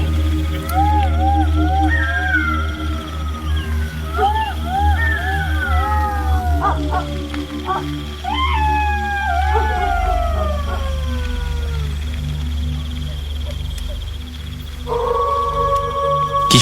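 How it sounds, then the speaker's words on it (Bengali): Jackals howl in a rising, wavering chorus of several overlapping calls, with high siren-like glides, over a steady, dense bed of crickets chirping at night after rain; continuous and fairly loud, no talk. "চারিদিক থেকে ঝিঝি পোকার তীব্র গর্জন কানে আসছে, সাথে শেয়ালের ডাক।"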